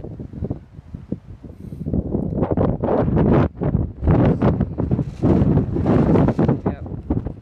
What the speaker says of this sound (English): Wind blowing, temporary green.